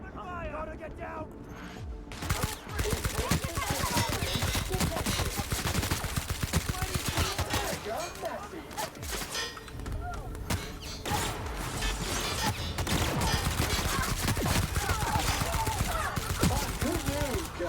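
Sustained gunfire in The Outer Worlds video game, with dense, continuous bursts of shots and impacts across the whole stretch, mixed with game voices and clatter.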